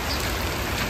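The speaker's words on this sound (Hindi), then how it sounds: "कितनी तेज बारिश हो रही है।" Heavy rain pours down in a steady, dense hiss that stays loud and unbroken throughout, with no voices over it.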